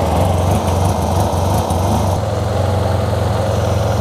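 A Yamaha Tmax scooter engine running hot and smoky with a suspected fuel or air fault, a steady droning idle with low throbbing pulses, close and loud throughout.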